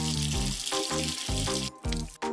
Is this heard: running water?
yes